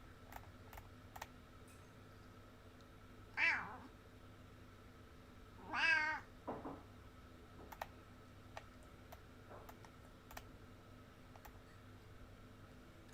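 A house cat meows twice indoors, two short rising calls a couple of seconds apart, fairly close, over the faint clicking of a keyboard and quiet room hum.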